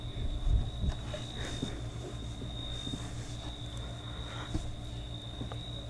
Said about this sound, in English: These crickets are loud.